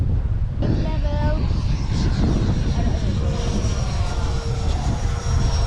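A Freewing 90mm F-22 RC jet flies on a very windy day, its ducted-fan whine steady and fairly loud, with heavy wind buffeting on the microphone throughout.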